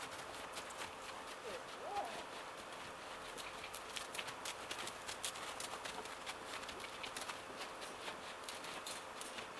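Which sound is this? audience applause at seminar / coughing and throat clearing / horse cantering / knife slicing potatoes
horse cantering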